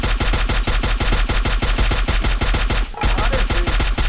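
Rapid gunfire in a shooting video game, a loud, close, steady stream of evenly spaced sharp shots continuing for about four seconds with a brief break near the end.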